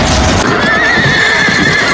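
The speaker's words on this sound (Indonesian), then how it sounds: "Dengan kepintaran William, pasukan berkuda Inggris maju menemui ajal mereka." English cavalry horses charge in the film Braveheart: a loud, close burst of neighing and whinnying rides over a dense clatter of galloping hooves, filling two seconds without pause.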